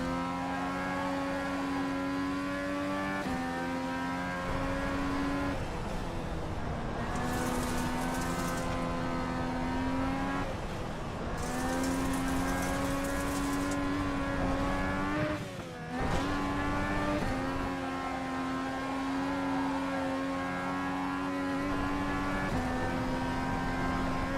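Race car engine in the iRacing simulator during a track day, a loud continuous whine that climbs and drops in pitch through repeated gear changes and lifts for corners, with no talk over it.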